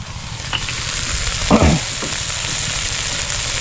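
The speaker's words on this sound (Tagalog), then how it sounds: "Ginisang sardinas with papaya." Sardines and papaya sauté in a pan, giving a steady sizzle with a brief louder burst of stirring and frying midway, close by with no talking.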